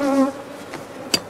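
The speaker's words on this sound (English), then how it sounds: "These bees, you can hear them, they follow me right over here." Bees from an aggressive, agitated hive buzzing close around, a steady drone with a sharp rising buzz near the end as one passes near.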